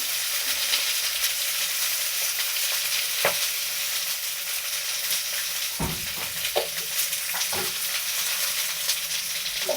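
Flat beans and potatoes sizzle steadily in a pan, with a few scraping stirs and occasional clinks of a utensil against the metal rising over the constant close frying hiss.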